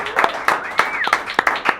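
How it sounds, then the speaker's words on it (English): Scattered hand claps from a small audience at a local song-swap gathering, a few sharp claps spread unevenly over a couple of seconds, with a voice briefly heard over them. "Big round of applause for Denny Driscoll."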